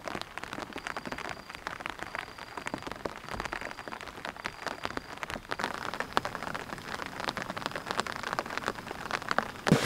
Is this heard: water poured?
no